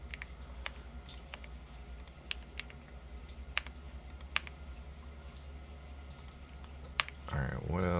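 A mechanical keyboard fitted with a tape mod is typed on softly: sparse, irregular muted clicks over a quiet room tone, with a brief louder rustle at the very end.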